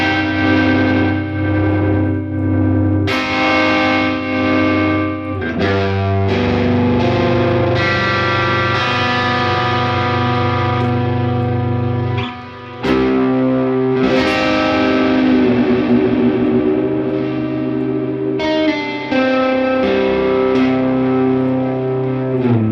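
Electric guitar played through a Boss Nextone amplifier with heavy effects, ringing sustained distorted chords and notes with echo and modulation, loud and continuous apart from a brief drop near the middle, with no talk.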